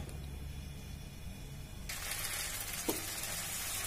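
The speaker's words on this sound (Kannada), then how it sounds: "ಬಾಂಡ್ಲಿಗೆ ನಾನು ಸ್ವಲ್ಪ ಬೆಣ್ಣೆ ಹಾಕ್ತಾ ಇದೀನಿ" Butter sizzling in a frying pan, a soft steady crackle that suddenly grows louder and brighter partway through, with one small clink.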